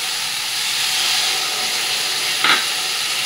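Vegetables and poppy seeds stirred in a pan during Bengali shukto cooking: a steady broadband steamy hiss of frying, with one brief scrape of the spoon near the end.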